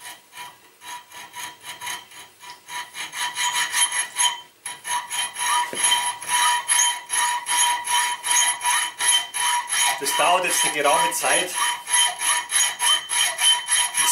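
Close, steady hand-sawing into a flat steel bar, rhythmic back-and-forth strokes with a brief pause partway, and someone speaking briefly over the rasping.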